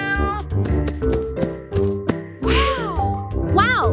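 A cat meows repeatedly in short rising and falling calls amid light jingling, with a person speaking alongside at close range.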